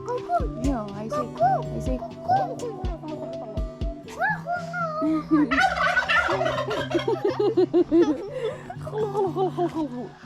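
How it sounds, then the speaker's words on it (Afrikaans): A turkey gobbles in repeated loud, rapid warbling bursts close by on an outing, while an adult and someone talk over and between the calls. "kalkoen. Kalkoen. Ja, hy sê"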